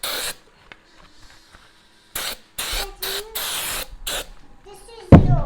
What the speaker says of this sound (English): You just spray it on like that.